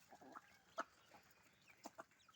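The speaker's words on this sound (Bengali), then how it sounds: "দেশি মুরগি মুক্ত পরিবেশে খাবার খাচ্ছে" Free-range desi chickens cluck in short, scattered bursts while eating paddy grain outdoors in the early morning, close and fairly faint, with no talking.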